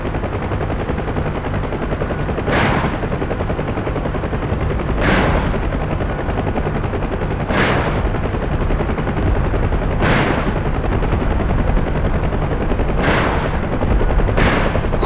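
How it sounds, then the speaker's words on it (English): A UH-1 Huey helicopter in the DCS World flight simulator fires pairs of rockets, six sharp whooshing launches spaced a few seconds apart over a steady, loud rotor and engine drone. "Press the trigger switch or the spacebar key to fire one pair of rockets at a time."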